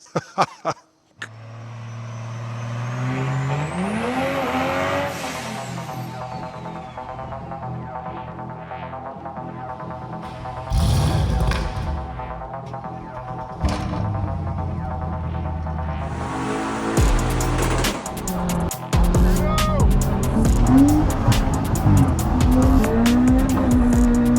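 A tuned BMW M140i pushed past 700 bhp on race fuel roars on a dyno, its loud engine rising through long revving pulls with rapid shifts and sharp pops, heard close up for the whole stretch.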